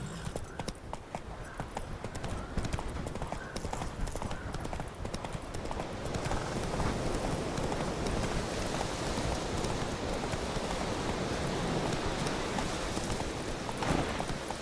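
Horse hooves clip-clop at a steady trot in The Witcher 3, a fairly quiet, continuous rhythm over a rain-like wash of ambient noise.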